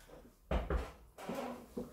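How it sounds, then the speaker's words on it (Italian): Knocking on a door in a comedic Italian sketch: two sharp, heavy knocks close together, then a muffled thump and a fainter tap, indoors and close, with no voices. "Questo sì che si chiama bussare."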